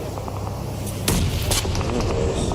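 Grenade blasts in a PUBG Mobile esports match, a sharp boom near the midpoint followed by another burst, over a steady dense game-audio bed with low rumble.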